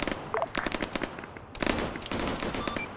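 Rapid gunfire bursts in an Arma military wargame, a dense crackle of repeated shots with a pause in the middle before firing resumes, loud and close with no talk.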